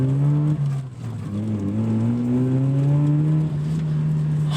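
A 1990 Mazda RX-7 FC with its rotary engine revving loudly and close, the pitch climbing smoothly through the revs, dipping briefly and rising again toward a high sustained whine.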